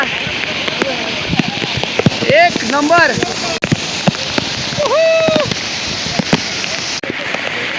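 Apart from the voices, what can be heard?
heavy rain at Raigad fort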